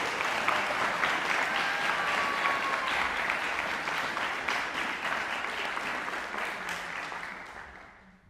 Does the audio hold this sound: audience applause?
yes